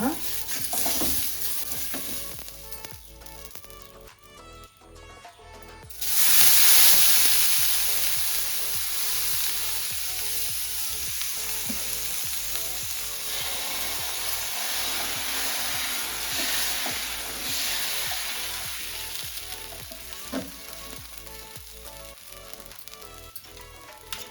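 Tora leaves dosa batter with onion frying in oil on a hot pan: a steady, close sizzle with scraping and stirring knocks, swelling into a loud hiss partway through and holding to the end.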